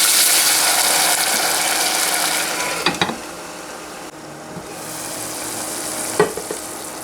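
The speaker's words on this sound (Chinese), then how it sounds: "洋葱、大葱， 炒出香味以后，加一点热水" Onion and leek fry in a pan with a steady broadband sizzle, joined by a few sharp clicks and scrapes of stirring near the end.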